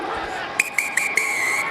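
At a rugby match between the Southern Kings and Zebre, a referee's whistle sounds in four sharp, shrill blasts over a murmuring stadium crowd, signalling half-time.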